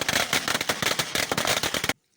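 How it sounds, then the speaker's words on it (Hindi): Firecrackers burst in a dense, continuous crackling volley at a Pahari wedding procession in Uttarakhand, loud and close, with rapid overlapping pops that stop abruptly into silence. "और भला बारात हो और पटाखे न फूटे, चारों ओर आतिशबाजी, तेज आवाज़ें और खुशियों से भरा शोर।"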